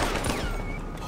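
Gunfire in the video game GTA 5, a quick burst of loud shots packed close together in a dense, noisy cluster.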